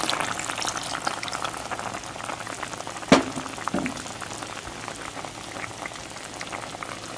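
Spicy beef caldereta with soy sauce and chili pepper bubbles steadily in a pot after water is added, a continuous close boiling and crackling texture with one sharp clink near the middle.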